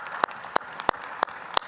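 Audience at a forum clapping, five evenly spaced, sharp single claps standing out from a quiet background.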